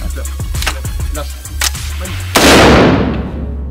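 Gunshots from a handgun at a shooting range, with several sharp muffled reports in quick succession followed by one loud, close blast that rings out into a long decaying echo.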